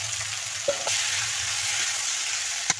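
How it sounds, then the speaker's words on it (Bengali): Ivy gourd and potato pieces sizzle in hot oil with onions, a steady close frying hiss broken by a couple of sharp pops or utensil clicks. "পেঁয়াজটা ভাজা ভাজা হয়ে গেছে আমি কষে রাখা কুঁদরি আলুগুলো দিয়ে দেবো"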